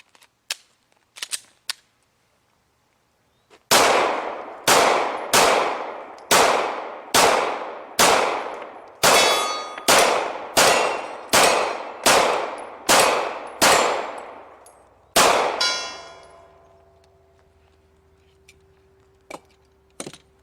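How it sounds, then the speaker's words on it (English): A Glock pistol fires at a steel target: a few scattered shots, then a rapid string of about a dozen sharp, loud reports, each ringing off the steel, followed by a longer ring and a couple of faint final taps. "Let's shoot the Glock once more."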